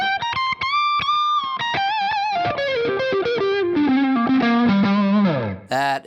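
Distorted electric guitar with Fishman Fluence Open Core Classic pickups played high on the neck, a sustained singing lead line with bends and vibrato stepping downward, loud and close, ending on a brief burst of noise.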